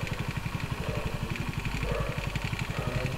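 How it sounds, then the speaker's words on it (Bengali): Idling TVS XL 100 i Touch motorbike engine, a close, even low putter that continues steadily, with a faint clatter on top and no speech. "এই যে আমি বাইকটার সাউন্ড দেখাচ্ছি"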